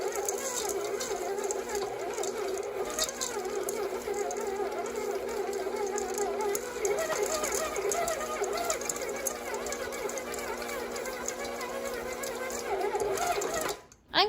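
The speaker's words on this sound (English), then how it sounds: "I'm going to mix this until the peanut butter chips are evenly spread out." A stand mixer works peanut butter chips through chocolate cookie dough, giving a steady whirring, rattling mechanical drone that runs at a constant level for about fourteen seconds before cutting off abruptly at the end.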